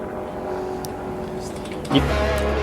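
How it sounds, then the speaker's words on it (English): A NASCAR Xfinity Series stock car steps out into a big slide at Auto Club Speedway in California, its engine droning steadily in the distance before a louder burst near the end as the slide comes through. "Oh, he just asked a little bit too much out of it, like Jimmy Johnson did yesterday in practice. The car just steps out. Nice big slide."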